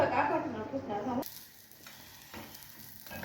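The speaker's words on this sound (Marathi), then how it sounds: "तुपामध्ये आपण भाजून काढणार पराठे" Paratha sizzling in ghee on a hot pan, a steady frying crackle that is loud for the first second and then drops to a quieter, fainter sizzle.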